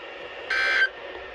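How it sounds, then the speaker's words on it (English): Weekly warning alarm test tone on a weather radio broadcast, a single steady beep of about a third of a second over faint background hiss. "This concludes weekly warning alarm tests."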